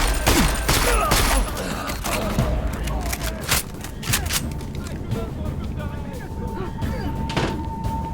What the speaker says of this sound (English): I started shooting you while you're hacking.